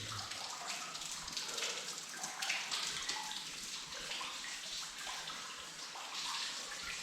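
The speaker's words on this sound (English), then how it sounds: "It's kind of raining in here and everything." Steady water noise, like constant dripping and trickling echoing inside a cave, with no voices.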